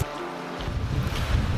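Gusting wind buffets the microphone beside fast, high river water, a loud continuous rushing roar with low rumbling bursts.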